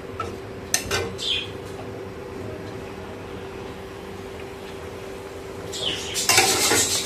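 Bhola fish pieces added to a pan of fried ginger and tomato, with a steady low sizzle, light utensil clinks and scrapes, and a louder burst of frying and clatter at the end.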